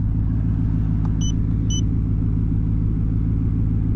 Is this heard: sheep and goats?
no